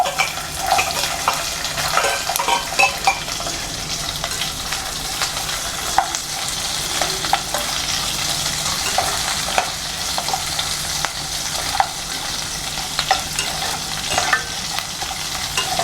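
Chopped onions and chilies fry steadily in hot oil in a pan for a Tamil sour tamarind-rice-water dish, with continuous close sizzling, occasional stirring scrapes and faint clinks throughout, no talking.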